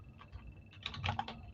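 Quick, light keystrokes on a computer keyboard, an uneven burst of clicks that picks up toward the end, close and quiet with no voices.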